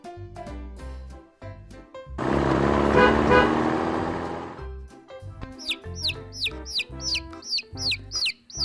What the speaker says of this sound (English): There are two yellow chicks.